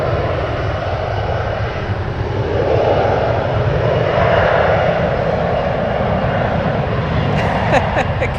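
A jet airliner at San Francisco airport gives a loud, sustained engine roar that swells in the middle and then fades, heard from outdoors at a distance, with no talking.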